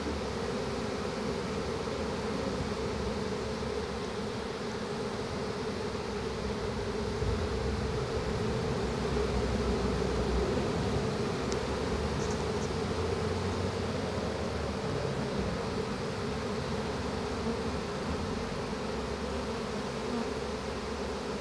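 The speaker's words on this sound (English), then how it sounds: "Fabulous being so close to the bees here and hearing the buzz of them." A dense, steady buzzing of a honeybee swarm fills the air continuously, close and enveloping, with no voices.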